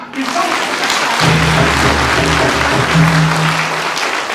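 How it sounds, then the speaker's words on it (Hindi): Audience clapping at a thanksgiving and felicitation gathering after a Kurukh Mass, a continuous crowd patter with a low hum and voices mixed in. "ताली बजावा"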